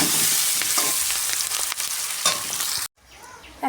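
Chopped onion frying in a pan with black cumin seeds, a steady close sizzle with occasional stirring scrapes that drops out briefly near the end, no voices.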